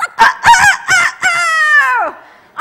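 A person vocally imitates a rooster crow, loud and close: a few choppy, clipped bursts lead into one long, strained, sustained cry that trails off, then a short sound at the end.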